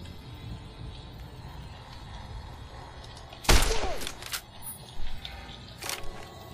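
Rifle gunfire in the video game Fallout New Vegas, a single loud close shot with a ringing tail, followed by a couple of fainter reports over a low ambient game background.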